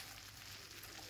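Soft, steady sizzling of chopped onions frying in a pan, brief and quiet, with no talking.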